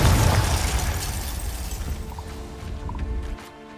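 A Confringo spell in the wizarding game Hogwarts Legacy detonates in a loud, booming explosion. Crackling, shattering debris trails off, and a brief chiming effect ends the sound.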